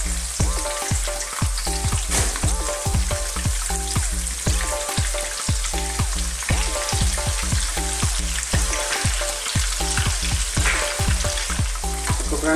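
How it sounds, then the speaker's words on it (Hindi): King fish pieces frying in hot salted oil, a loud, continuous close-up crackle with a fast, busy spatter of pops throughout. "देखो कितना अच्छा है मच्छी फ्राई"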